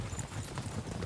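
Horse hooves clip-clop steadily in a medieval RPG world, a continuous close trotting rhythm filling the short moment with no voices over it.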